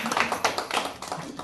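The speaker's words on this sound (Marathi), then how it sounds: "वाजवा टाळ्या." An audience at a Marathi sermon claps hands in a quick, uneven patter of light taps, faint and brief.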